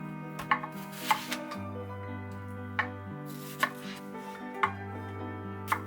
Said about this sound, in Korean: 껍질을 벗긴 양파를 반으로 썰어 채 썰어줍니다.